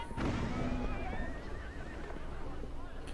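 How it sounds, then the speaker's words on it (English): Horses in a video game whinny and neigh amid a carriage scene, with a sharp burst at the start followed by wavering neighs over a dense rumble of hooves and background noise. "I'm gonna freak the horses away."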